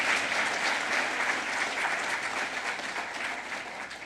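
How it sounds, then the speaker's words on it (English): An audience at a conference inauguration claps in sustained, full applause that holds loud and even before easing off slightly toward the end, with no voices over it. "yeah, please applaud fully."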